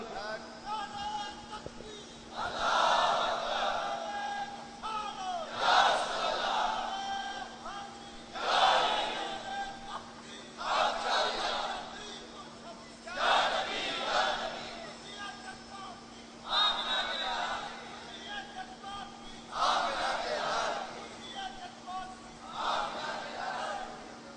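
A large rally crowd chants a religious slogan together, loud repeated bursts rising and falling in a steady rhythm, each roar separated by brief lulls.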